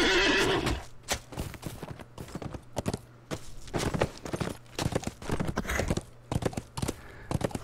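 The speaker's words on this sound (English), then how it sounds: "hop back on your horse" A horse in a Middle-earth video game whinnies loudly at the start, then its hooves clip-clop in a steady walking rhythm with sharp, close thuds for several seconds.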